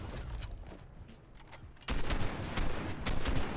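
Video game gunfire sounds as a few quick shots in a fight, coming as sharp, fairly quiet bursts that grow slightly louder partway through.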